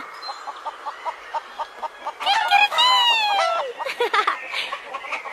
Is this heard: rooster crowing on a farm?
yes